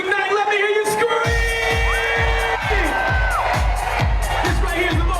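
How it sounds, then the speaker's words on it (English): A crowd at a Club Glow product launch event in Gonzales screams and cheers loudly, with rhythmic thumping beats and a steady roar of voices. "Let me hear you scream!"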